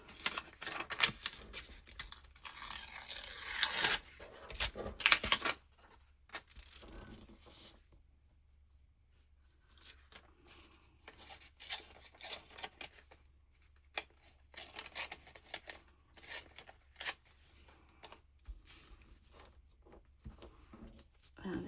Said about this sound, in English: let's tear something for this